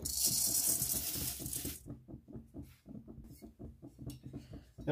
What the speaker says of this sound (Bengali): এর মধ্যে এবার চিড়েগুলো দিয়ে দেবো